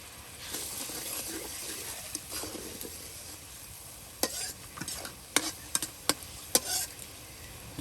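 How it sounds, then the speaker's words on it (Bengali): A spice masala is sautéed and stirred in a pan over a faint low sizzle. Sharp scraping and clanking strokes from the stirring come in a quick irregular run in the second half. "একদিকে মশলা কষানো হচ্ছে"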